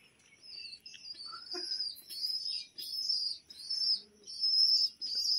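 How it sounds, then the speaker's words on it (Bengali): Pigeon chick calling insistently while an adult pigeon feeds it in a loft, a run of high, squeaky peeping cries repeating in bursts, close and fairly loud with soft wing and cooing sounds underneath. "এই যে বাচ্চাটা চেল্লাচ্ছে, হ্যাঁ হ্যাঁ হ্যাঁ খাওয়াবে খাওয়াবে, এই যে ডাকাডাকি করছে।"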